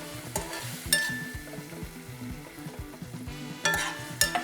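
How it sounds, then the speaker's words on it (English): A hot pan of steak juices sizzles as dry vermouth is added to deglaze it for a breakfast sauce, with a spoon stirring and scraping in a busy rhythm and a few sharp metallic clinks, close and moderately loud. "Now we deglass the pan with some dry vermouth."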